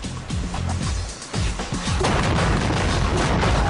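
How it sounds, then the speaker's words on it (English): Pirates on a ship at sea fire cannon, swivel guns, muskets and pistols, a loud volley of overlapping booms and cracks that begins in separate bursts and builds into dense, continuous gunfire. "The pirates fire their cannon, swivel guns, muskets and pistols."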